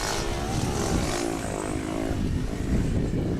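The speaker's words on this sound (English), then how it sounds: "The dirt bikes, scooters, they're all out today." Small motor engines such as dirt bikes and scooters drone steadily nearby outdoors around a high school baseball game, a continuous buzzing hum with no pauses.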